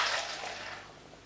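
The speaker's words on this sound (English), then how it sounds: "I'm going to pour one of my special potions into the jug" Liquid pours through a funnel into a measuring jug, a close, steady splashing rush that gradually softens as the stream tapers off.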